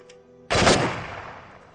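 A single loud, close rifle shot from a dubbed Hollywood action film, with a sharp crack followed by a decaying echo tail.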